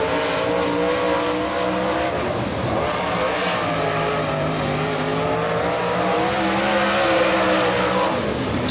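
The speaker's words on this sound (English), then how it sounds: "First of two laps for Tim Ladd." Loud, steady roar of a Rocket chassis dirt late model car running a qualifying lap at Atomic Speedway in the Tennessee Thunder Dirt Car Series, engine pitch rising and falling through the turns, close and continuous without any talk.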